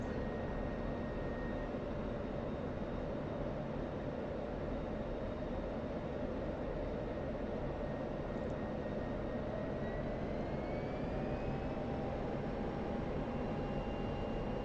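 A steady, continuous aircraft engine drone from the DCS flight simulator game fills the whole stretch at constant loudness, with a faint tonal whine that slowly rises in pitch toward the end and no talking.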